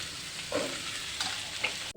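Taro stolons frying in a pan give a soft sizzle with a couple of brief stirring scrapes, quiet and close over about two seconds.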